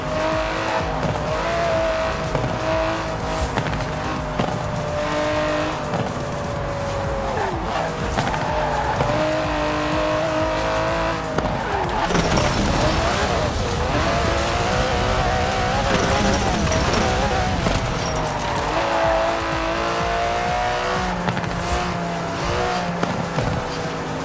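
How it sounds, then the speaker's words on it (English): An Aston Martin DB11 drives hard in the Forza Horizon 4 racing game, its engine droning and shifting pitch continuously alongside bursts of tire squeal, loud and steady with no talk. "It's an Aston Martin."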